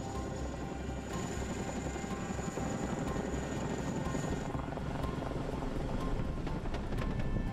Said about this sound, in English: there's nothing that is quite as exhilarating as seeing the Chinook fly